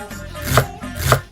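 A knife cuts slits into raw, washed chicken being prepared for grilling, landing in two distinct, fairly close strokes about half a second apart, with no voices.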